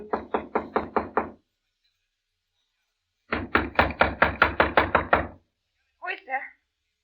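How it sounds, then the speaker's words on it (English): Knocking on a hotel room door in an old-time radio drama: two clear bursts of about eight rapid raps each, close and loud, separated by a pause, followed by a brief voice. "A few seconds later, I knocked on the door."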